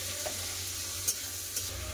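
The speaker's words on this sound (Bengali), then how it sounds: "এমনি টমেটো ভাজা হচ্ছে" Chopped tomatoes with a pinch of salt fry in a pan over black cumin and slit green chilies, a steady close sizzle with scraping stirs and a few light clinks.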